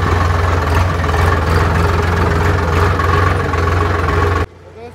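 A blue tractor (Neela Ghoda) with its lever fully down pulls a 9-tine cultivator through a field, its loud, steady heavy engine drone running continuously before cutting off abruptly near the end.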